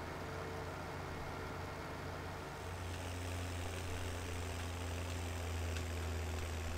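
A tracked tractor engine in Farming Simulator 17 on the Pacific Inlet map drones steadily with a low, even rumble, shifting to a deeper, stronger hum partway through as it keeps running alone without any talk.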